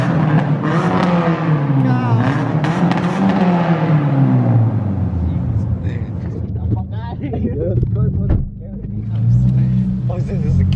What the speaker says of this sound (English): we're gonna do a quick rev session in the muffler